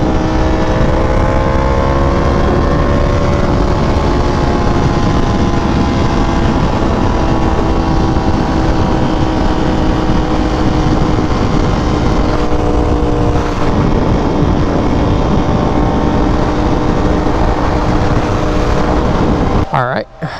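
A Ducati Panigale V4R motorcycle engine drones loud and steady while riding, its pitch rising slowly through the revs under rushing wind before cutting off abruptly at the end.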